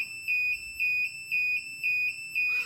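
Kombora III security system alarm siren sounding alone in steady, evenly spaced electronic beeps, about five shrill pulses with short gaps, fairly close and loud.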